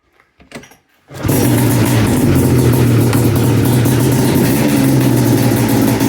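A Polaris RMK 700 snowmobile engine, half choked, cranks with a couple of short sputters after near silence, then catches and settles into a loud, steady two-stroke idle close by.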